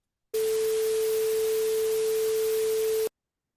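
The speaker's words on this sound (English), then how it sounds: "I prepared a sine wave at 440 Hertz and some white noise." A 440 Hz sine wave test tone plays alone, a loud, pure, unwavering pitch held for about three seconds, with silence before and after.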